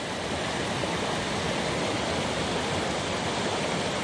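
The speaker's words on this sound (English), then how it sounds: "Just another one of these beautiful mountain streams." A mountain stream on a hiking trail, swollen after days of rain, rushes in a loud, dense, unbroken roar of flowing water, close by and without voices.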